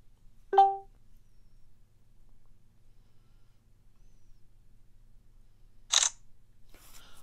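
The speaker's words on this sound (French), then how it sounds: "vous entendrez le téléphone se déclencher" A Samsung Galaxy S8 phone, set off by a Bixby voice command to take a selfie, gives a short electronic chime and a few seconds later a crisp camera-shutter click in an otherwise quiet room.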